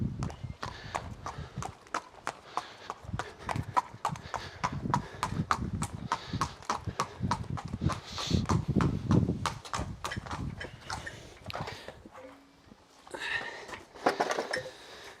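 A horse's shod hooves clip-clop on a hard floor, walking away after shoeing in a steady, uneven rhythm of close, crisp strikes that soften and fade near the end.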